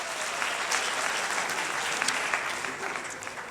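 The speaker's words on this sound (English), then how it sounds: "A round of applause for Sis Dudu." An audience at a university inauguration ceremony applauds in a dense, steady wash of clapping that holds an even loudness throughout, full and close in a large hall.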